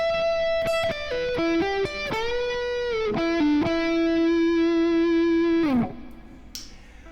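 A slow minor pentatonic lick on electric guitar, a handful of distinct picked notes stepping down, then a long sustained bent note that rings out and fades, played alone, close and clear.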